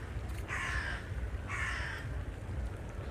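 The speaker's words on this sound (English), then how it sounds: "Crow there." A crow caws twice in a London cemetery on a December walk, two clear harsh calls about a second apart over a low outdoor rumble, with no talking.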